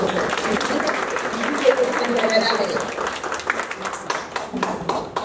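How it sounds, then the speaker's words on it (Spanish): An audience applauds at a women's rights panel discussion in Guatemala, a moderate, steady patter of clapping lasting several seconds, with some murmuring voices mixed in. "les pido un aplauso para la doctora Ana Silvia Monzón"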